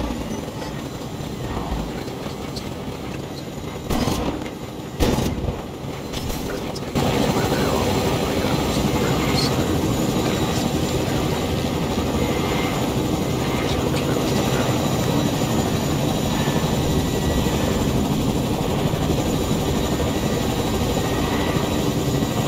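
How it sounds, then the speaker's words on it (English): A Fortnite helicopter runs with a steady, loud rotor drone and engine roar. Brief clunks and bursts come early, then the whine settles into a constant, close, unbroken hum. "Need to get the helicopter."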